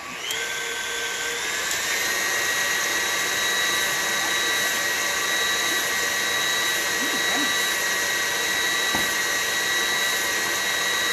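Electric mixer whipping cream to soft peaks for berry tiramisu, a steady high motor whine that runs unbroken and fairly loud from start to finish, alone without talk.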